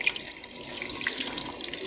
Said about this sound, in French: J'ajoute une portion d'eau.